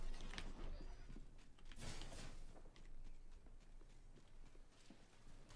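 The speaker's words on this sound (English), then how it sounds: "I had to be quiet to hear your little footsteps" Character footsteps patter quietly in the online shooter game Apex Legends, a faint run of soft, irregular steps with a few louder thumps around the second mark, heard alone under low game ambience.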